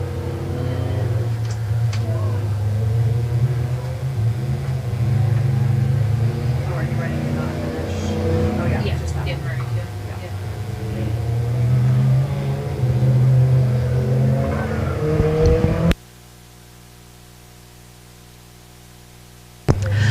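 Race cars at Nevada Speedway in Nevada, Missouri, roar around the oval in a steady, loud engine drone with rising and falling revs, and commentary runs over the top until the sound cuts out near the end.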